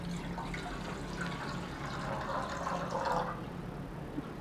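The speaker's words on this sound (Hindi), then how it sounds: "सबसे पहले हम एक फ्राई पैन में पानी डालेंगे।" Water is poured into a frying pan for sheer khurma, a soft steady splashing pour that swells briefly before tapering off, fairly quiet and with no speech.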